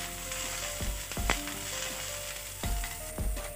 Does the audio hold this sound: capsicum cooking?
yes